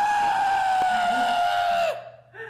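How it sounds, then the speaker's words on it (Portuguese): The cartoon character Fear from Inside Out lets out a loud, sustained high-pitched scream that holds steady for nearly two seconds, then drops off sharply, followed by a brief fainter sound. "O medo gritando."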